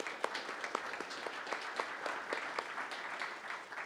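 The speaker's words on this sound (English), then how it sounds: "So let's give them a round of applause." An audience at a community climate event applauds steadily with dense, even clapping heard from a modest distance, fairly quiet and without talk.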